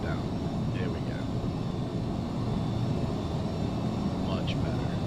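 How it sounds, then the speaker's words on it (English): Aircraft engines throttled down in the Prepar3D flight simulator game, a steady droning engine hum filling the whole stretch, with a person talking over it. "So we'll slow our engines right down."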